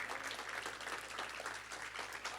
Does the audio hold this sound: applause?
yes